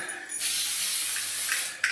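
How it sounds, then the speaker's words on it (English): A single continuous hissing burst from an aerosol can, lasting over a second, close and fairly loud, ending with a short puff. "Then you get a bit of snow spray."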